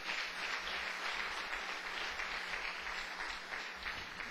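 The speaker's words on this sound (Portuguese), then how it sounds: "Dê uma salva de palmas para o Senhor Jesus." A church congregation claps for several seconds in a dense, even wash of applause that sounds distant and fairly quiet, with no talking over it.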